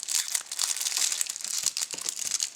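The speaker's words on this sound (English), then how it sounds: "Let's rip it open." A small plastic baggie of accessories for a RunCam action camera is torn open by hand, giving a dense, crisp crinkling and rustling that runs close and continuous for a couple of seconds.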